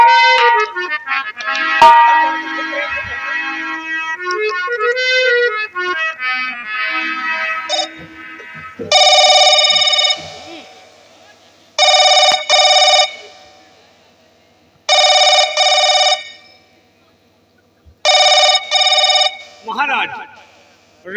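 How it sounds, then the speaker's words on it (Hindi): Old-style telephone bell ringing in repeated bursts with short pauses between rings, loud and close, after a stretch of dramatic music; the ringing stands alone without talk. "राजकुमारी जी का फोन।"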